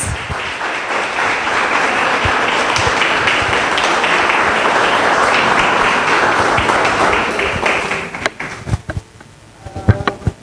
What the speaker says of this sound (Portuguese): Que você possa aplaudir ao Senhor sobre a vida deles.